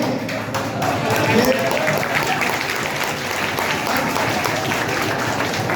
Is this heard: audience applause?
yes